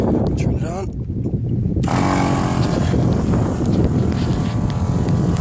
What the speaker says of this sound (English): I'll show you guys how good this little air compressor is.